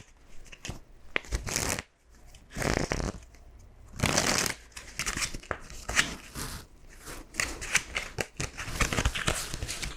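Playing cards shuffled by a magician in a café, crisp riffling bursts that come in quick repeated bouts with short pauses between them, close and clear with no talking.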